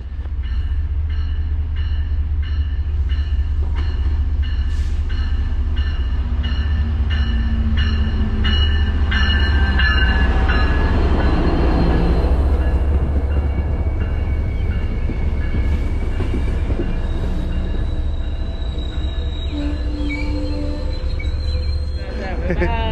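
An MBTA commuter rail train on Marathon Monday rumbles steadily nearby, with continuous low rolling wheel noise and occasional high metallic squeals and whines throughout.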